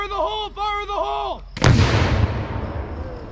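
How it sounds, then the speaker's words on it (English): An explosive breaching charge detonates during Army sapper urban breaching training, a sharp, loud blast with a long rumbling decay that follows shouted commands. "Keep your heads down. Down after the explosion."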